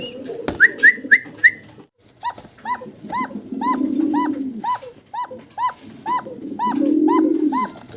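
A female fancy pigeon cooing up close, a series of short, evenly spaced rising-falling coos repeated in quick rhythm, with a few sharper chirps near the start and a low murmuring hum in the background.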